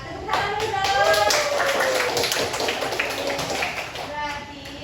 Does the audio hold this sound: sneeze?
no